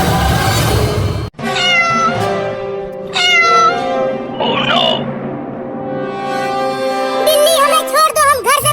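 In a Hindi cartoon, a cat meows loudly and repeatedly with drawn-out, wavering cries that run almost continuously, mixed with a character's voice.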